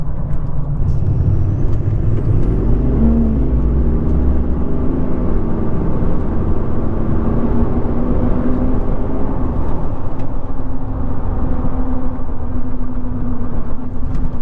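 Duramax diesel pickup truck, with a freshly replaced turbocharger, accelerating hard on a short pull during a road test, a steady loud engine drone and road roar with a rising turbo whistle that holds high, then fades near the end.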